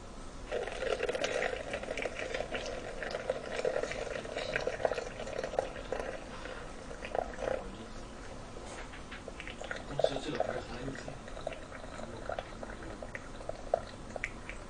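Boiling-hot water at 100 °C is poured into a spout doypack pouch, a busy liquid rush and bubbling with scattered clicks and machine rattle continuing throughout, fairly steady and close.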